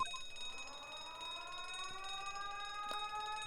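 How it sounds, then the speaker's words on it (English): A stream alarm siren sounds steadily and faintly, a set of rising and falling wailing tones that hold throughout with no talk. "The sirens are going off!"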